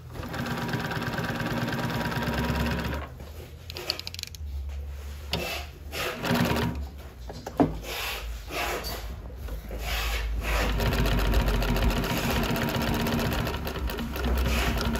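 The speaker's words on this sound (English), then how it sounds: "The motor that we're using today is a regular servo motor from Consew." A Consew 255RB-3 industrial sewing machine driven by a Consew servo motor runs in several close, rapid stitching bursts separated by short pauses, its whirring hum steady and loud.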